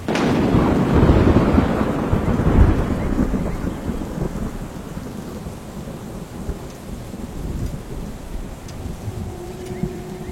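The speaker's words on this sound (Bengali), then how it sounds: "মুষলধারে বৃষ্টি হচ্ছে বাইরে।" Heavy rain pours down while a deep roll of thunder rumbles loudly at the start and fades, leaving a steady wash of rain and gusty wind.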